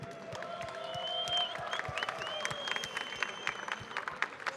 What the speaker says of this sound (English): Could we please have a round of applause for all of our competitors?